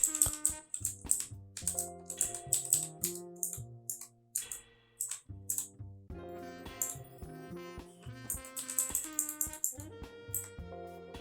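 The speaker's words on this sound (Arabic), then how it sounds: "بال سميتو الاسهم اللي كاينين في الكيبورد نبدا نهبط بحال هكا" Arrow keys on a computer keyboard are tapped in quick runs of crisp, light clicks, pausing now and then, over soft background music.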